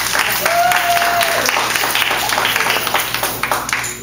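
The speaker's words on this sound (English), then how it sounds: "Give her a round of applause" An audience at a talk bursts into loud, continuous applause, with voices and a brief whistle-like tone mixed into the clapping throughout.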